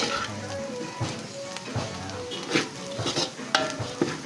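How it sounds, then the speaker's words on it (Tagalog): Onion, garlic and ginger sauté in a pan for pork sisig, giving a soft, steady sizzle broken by repeated stirring scrapes and light clinks of a utensil against the pan. "Sangkutsan ako sibuyas, bawang, luya."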